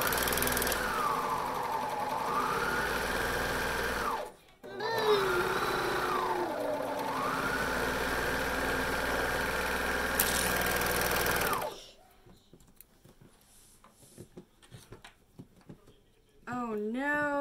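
A serger sews a crotch curve seam with a half-inch allowance for Rockapalazzo pants, a loud steady motor whir that slows and surges and stops briefly. Quieter clicks and a short second run follow.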